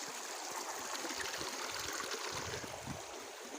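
A hill river, the Kukurjan, streams steadily over stones, its rushing water a continuous close wash that never lets up.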